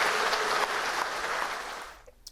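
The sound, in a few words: audience applause for candidate Ahn Cheol-soo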